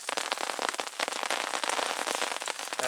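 Steady rain patters hard on a surface at a wet campsite, a dense continuous hiss of drops with crackling texture, loud and close throughout with no voices.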